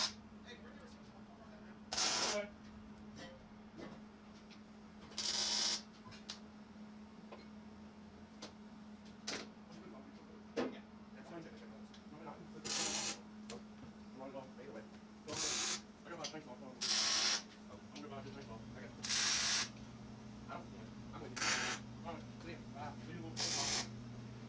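MIG welding on a steel gantry crane in a workshop: roughly a dozen separate bursts of harsh, crackling hiss, each about a second long, spaced a few seconds apart over a steady low hum.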